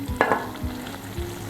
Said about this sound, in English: Ooh, that is simmering away.